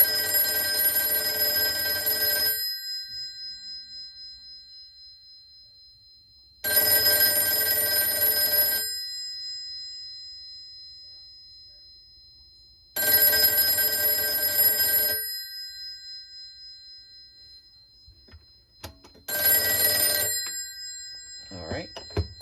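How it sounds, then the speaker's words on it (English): A 1954 Western Electric 464G telephone bell rings loudly in four long bursts of about two seconds each, separated by silent pauses of roughly four seconds. "So now we will ring the telephone, last but not least."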